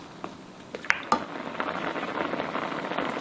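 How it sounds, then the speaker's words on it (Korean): Pork and onion simmering together in a pot for a spicy pork jjageuli, a soft steady bubbling with a few light clinks of a pot or utensil near the start. "돼지고기와 양파를 넣고 보글보글 먼저 끓여주는 거예요"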